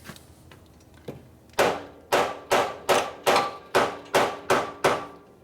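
A hammer strikes engine parts of a flood-damaged 1965 Harley-Davidson XLH Sportster, starting with a few light taps and building to eight loud, evenly spaced metallic blows close by, with no talking.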